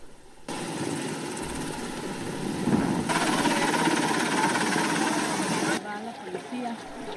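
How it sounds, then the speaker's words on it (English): A steady, loud rotor roar of Black Hawk helicopters circling over a river crossing fills the air, constant and droning, with rushing background noise and no clear speech. "You have Black Hawk helicopters basically circling this caravan as they cross the river."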